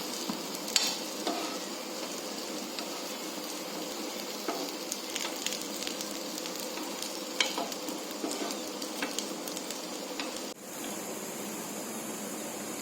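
Chicken 65 pieces toast in a dry pan without oil, making a steady, close crackling sizzle with small pops and faint scraping stirs, free of speech, briefly dipping near the end.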